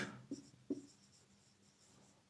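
Pen writing on a board during a physics lecture on the double slit experiment: soft, close scratching strokes with a few sharper taps as the pen lands, quiet and with no talk.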